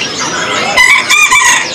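A lakbet bird for sale at an Indonesian bird market gives loud, close, shrill calls: a sweeping cry followed by a run of sharp, harsh squawks, with no talk over them.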